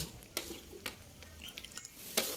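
Beef with palm sugar cooks in a pan over medium heat while being stirred, giving a faint soft sizzle broken by a few sharp utensil scrapes and clinks against the pan.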